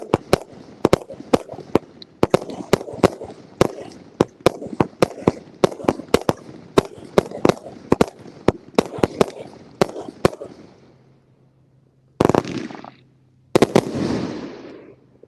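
Elite Fireworks Fearless Bot fires in the rain with a rapid run of sharp, loud crackling bursts at uneven intervals, then a pause and a few final heavy booms with trailing rumble.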